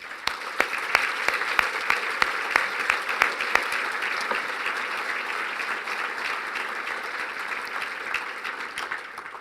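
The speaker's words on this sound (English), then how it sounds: "join me in a round of applause for the veterans in this room today" A round of applause for veterans at an Armed Forces Day luncheon, many hands clapping close and steady, sharper claps standing out early, the clapping holding evenly for nine seconds before fading.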